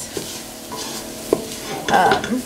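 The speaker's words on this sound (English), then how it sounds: "So we're just going to stir that in and try to get those veggies nice and coated." Vegetables being stirred into a pot of chicken and rice soup, with soft scraping and a brief knock, then a louder burst of stirring and faint sizzling near the end, close and with no talk.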